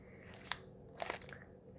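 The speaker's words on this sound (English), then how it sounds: "it has beads inside and it makes this a really nice crunchy sound" Soft crunching and crackling squeezes of a bead-filled stress ball, a few brief bursts close by with quiet gaps between them and no talking.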